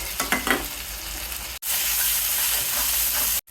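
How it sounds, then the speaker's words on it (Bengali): Spice paste of garlic, onion, dried and green chillies with black cumin frying in oil in a pan, a loud steady sizzle after a brief stir, sustained and close with no talk. "ভালো করে মশলাটি ভেজে নিব"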